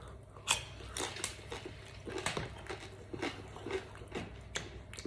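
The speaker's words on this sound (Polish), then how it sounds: "To tak chrupie, to właśnie skórka, która została potraktowana glazurą z dodatkiem Jack Danielsa na miodzie." Crunchy skin of a beer-marinated pork knuckle, glazed with honey Jack Daniel's, bitten and chewed up close in a run of repeated crackling crunches that continues steadily, with no talking.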